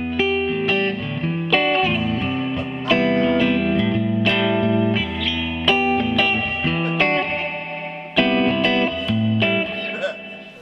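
An electric guitar plays chords and melodic lines through a driven, slightly distorted tone with some reverb, strummed and picked in uneven bursts.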